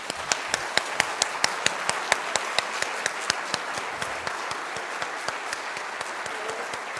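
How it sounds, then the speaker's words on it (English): A school band concert audience gives a round of applause for the graduating seniors: steady, dense clapping throughout, with sharp regular claps standing out near the front, fading slightly toward the end. "Can I get one last round of applause for our amazing seniors?"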